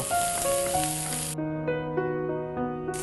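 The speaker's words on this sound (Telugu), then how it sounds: "కొద్దిగా వేగితే సరిపోతుందండి" Sizzling hiss from ingredients for capsicum coconut chutney frying in a hot pan for a little over a second, then it cuts out and returns briefly at the end, over steady tonal background music.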